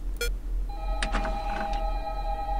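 Telephone ringing in the video game Five Nights at Candy's 2: a short electronic ring with steady tonal lines, heard alone at moderate level over a low background hum.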